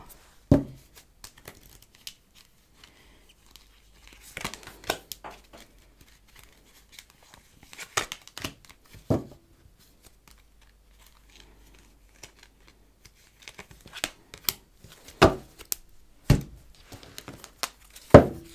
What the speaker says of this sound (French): Je mets une première carte de tarot.